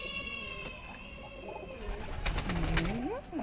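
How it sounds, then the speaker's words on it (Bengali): Pigeons settle into a farm loft, giving soft low coos and calls over quiet rustling, fairly faint and close by. "খামারে এখন প্রত্যেকটা কবুতর ঢুকতেছে, আমাকে দেখে একটু ভয় পেয়ে যাচ্ছে, ওরা বের হয়ে যাবে।"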